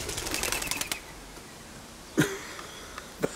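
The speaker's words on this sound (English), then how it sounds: "Just got invaded by pigeons." Pigeons flap their wings in a quick flurry of soft clattering beats, followed by a couple of isolated, sharper wing claps nearby.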